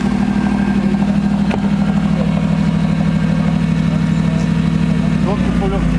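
A car with a 5.5-litre CLK AMG engine idles steadily close by, a constant deep rumble that holds unchanged from start to finish.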